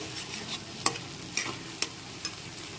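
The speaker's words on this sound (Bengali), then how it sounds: "আর একটু নুন মিশিয়ে নিচ্ছি।" Spice mixture being stirred with salt in a bowl for potol dolma, giving a few soft scraping strokes and sharp taps at a steady pace, close and fairly quiet, with no voices.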